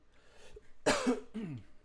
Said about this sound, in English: I keep trying to mute it when I feel a cough coming on, but then don't get there in time.